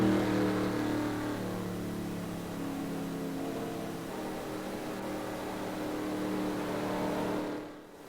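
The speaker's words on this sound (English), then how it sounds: "Cars coming over the hill now, looking for some takers for the pits" Stock race cars circling under caution at a NASCAR Emory Healthcare 350 event, a steady mid-pitched engine drone from several cars holding an even pace, fairly loud and unbroken, fading slightly at the end.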